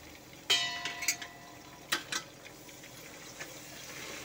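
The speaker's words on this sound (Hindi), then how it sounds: "ये डाल के अब मैं चलाऊंगी इसको 2-3 मिनट" Eggplant with salt, turmeric and crushed coriander stirred in a pan: a few short scraping, sizzling bursts in quick succession, then quieter cooking hiss, with no voices.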